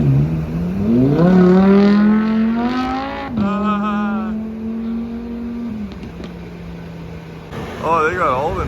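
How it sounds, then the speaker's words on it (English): Supercar engines revving as cars drive out of a London venue, a loud rising rev settling into a steady drone nearby, then fading, with another car's brief rising note at the end. "they got all the nice cars coming out of here"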